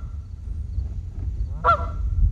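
A single Canada goose honk rings out sharply over a low rumbling background at a wetland conservation park in Cumberland, Ohio, fairly close and clear with no voices.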